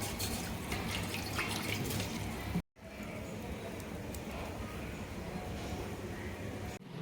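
Water poured into a clay cooking pot for a goat head gravy, a steady splashing gush that breaks off briefly and then runs on evenly at moderate loudness.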